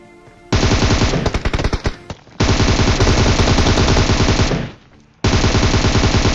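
Gunfire in the mobile game PUBG Mobile, played on an iPad Air: loud, dense automatic bursts, the first long one giving way to a stutter of shots, then two more sustained volleys with brief gaps between.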